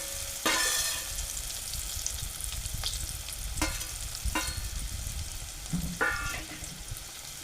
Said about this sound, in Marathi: तर मी टाकला आहे कांदा, उभा चिरलेला कांदा आहे हा.